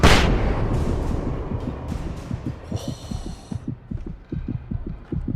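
A flashbang goes off in Alan Wake Remastered with a loud burst at the start, followed by a rhythmic low thudding pulse and a brief high ringing tone.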